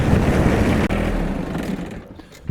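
A lawn tractor towing a Garvee 44-inch tow-behind lawn sweeper, a steady engine rumble with rattling that runs loud and continuous, then fades and thins toward the end.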